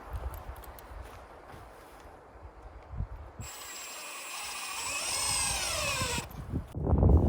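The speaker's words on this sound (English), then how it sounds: "So what I'm doing here is starting screws." A power drill drives screws into framing lumber for joist hangers in an outdoor kitchen build, a sustained whirring run of about three seconds, close and clear, with scattered handling knocks before and after.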